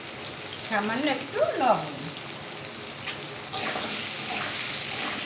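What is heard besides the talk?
frying and stirring in a pan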